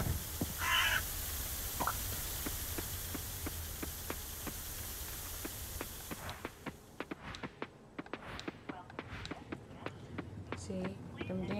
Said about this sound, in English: birds is messing up my crops. The crows